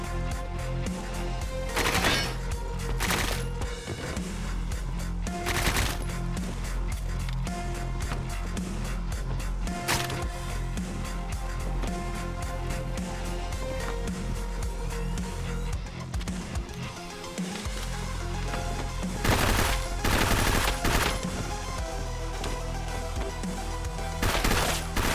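Dense, continuous gunfire from a shooting video game, loud bursts of automatic fire and explosions layered over game music and effects across the whole stretch, with no talking.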